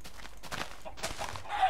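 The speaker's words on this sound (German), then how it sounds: "Könnten wir ein paar Hühner tatschen?" Chickens clucking in the video game Minecraft, a few short, close clucks and squawks over a faint background, with no talking.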